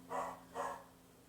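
A small dog gives two short barks in quick succession, moderately close, with a faint steady hum underneath.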